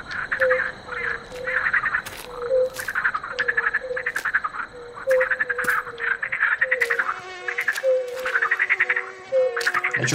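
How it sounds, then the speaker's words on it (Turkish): Mosquitoes whine in rhythmic, repeating buzzes through a dark forest in the video game The Cursed Forest, with faint clicks and a steady background hum, no voices. "Ne çok sivrisinek sesi var ya."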